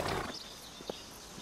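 A stallion snorts and shifts, with a breathy blow at the start followed by a couple of short, sharp hoof or snort sounds at moderate distance, no one speaking.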